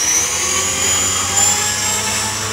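A helicopter engine comes out of idle during autorotation training, giving a loud, close, steady high-pitched turbine whine with a constant rotor drone underneath and no pauses.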